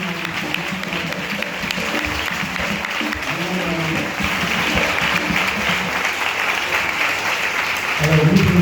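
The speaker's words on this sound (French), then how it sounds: "Jésus est là et nous allons applaudir très fort." A church congregation applauding loudly during a Jericho prayer gathering at a parish, continuous crowd clapping that swells toward the end, with a voice heard briefly at the close.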